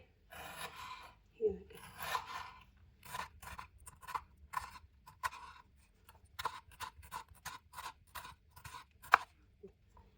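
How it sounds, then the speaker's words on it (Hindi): A knife slices through a large tomato on a board, with a few scraping strokes followed by a series of quick, evenly spaced cuts, quiet and close. "1 टमाटर बड़े साइज का ले लिया, 1 ही डालेंगे बीच में। अब इसकी भी कटिंग करेंगे।"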